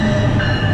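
A New Jersey Transit commuter train on the North Jersey Coast Line rumbles loudly at Middletown station, a dense, steady roar of engine and rolling wheels heard up close without voices.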